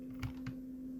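Two quick, faint keyboard key presses, a shortcut being tapped about a quarter second apart, over a steady electrical hum in a quiet room.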